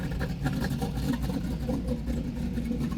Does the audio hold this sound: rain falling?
no